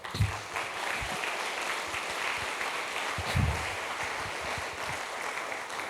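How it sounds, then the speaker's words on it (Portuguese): Congregation applauding in a church service, a steady broad wash of clapping from many hands that holds throughout, with low thumps and no speech over it. "Vamos aplaudir Jesus"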